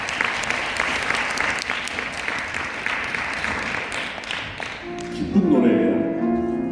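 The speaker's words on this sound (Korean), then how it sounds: "박수를 청해 주겠습니다." Audience applause at a lecture-concert of opera arias, steady clapping from a seated crowd that fades out as a piano begins softly near the end.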